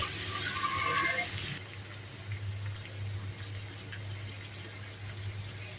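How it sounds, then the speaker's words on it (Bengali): Bitter gourd frying in ghee over low heat gives a soft, steady sizzle, with a brighter hiss in the first second and a half before it settles into a quieter crackle over a low hum. "এখন আমি এগুলোকে একদম লো তাপে ভেজে নেব।"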